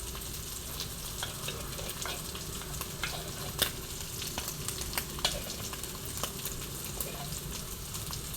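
Pounded spice paste sizzles steadily in hot oil with squid for Thai holy basil stir-fry, a dense continuous frying hiss broken by a few sharper crackles and spatula scrapes, close and alone without talk.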